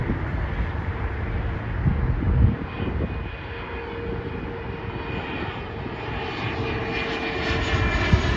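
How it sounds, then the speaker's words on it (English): Phenom 300 business jet at Dallas Love Field, its engines roaring steadily and continuously throughout, with a broad rumble and faint wind buffeting at the microphone. "Phenom 300 coming from Houston, HOU, Houston Hobby."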